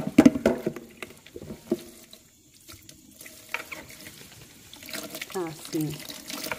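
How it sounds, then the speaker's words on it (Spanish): A faucet runs into a sink in bursts as peace lily roots are rinsed, water splashing and gurgling close by while someone talks over it. "simplemente voy a enjuagar sus raíces bien"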